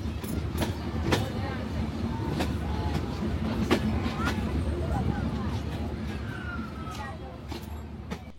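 A passenger train bound for Jashore, just departed Darshana station, rumbles steadily along the track with a dense, continuous roar and scattered sharp clicks from the wheels and joints.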